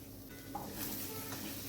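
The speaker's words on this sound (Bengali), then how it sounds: "জায়ফল এলাচ গুঁড়োটা দিয়ে আমি আবারও খুন্তি দিয়ে কন্টিনিউ এটাকে নেড়ে গেছি।" A spatula stirs a nutmeg and cardamom mixture with fresh green peas in a pan, giving a steady close sizzle with soft scraping strokes throughout.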